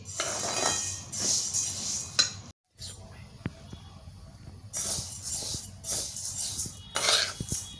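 Bhajani millet flour roasting in a pan over low gas while being stirred constantly, with bursts of crackling and the scrape and clink of a spoon against metal, broken by a brief silence.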